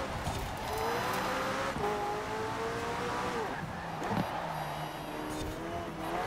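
Game engine of a McLaren 600LT in Forza Horizon 4 pulls hard through rising revs with gear changes, its steady close drone running unbroken.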